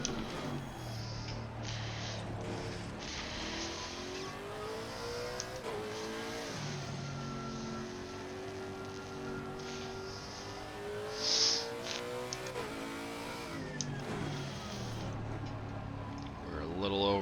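A V12 race car in a racing game at the Nürburgring drones steadily throughout, its engine note rising and falling through gear changes, with someone talking over it most of the time.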